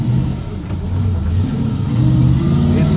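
A GMC K2500 pickup truck with an LS 6.0 V8 engine swap and a Muncie SM465 manual transmission is being driven, giving a steady, loud engine rumble with uneven revving that rises and falls, heard close and without talk.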